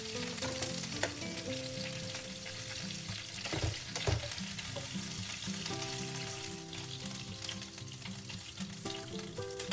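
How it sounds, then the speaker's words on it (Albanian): Meatballs (qofte) sizzle in a pan with a little oil, crackling steadily as they are turned over, with a few louder stirring clatters along the way and no talking. "do t'i skuqim, por jo në shumë vaj"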